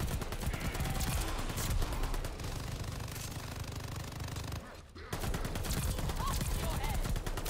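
Rapid gunfire in Call of Duty: Vanguard multiplayer, bursts of shots rattling steadily for several seconds, with one short lull before the firing resumes, while someone talks over it.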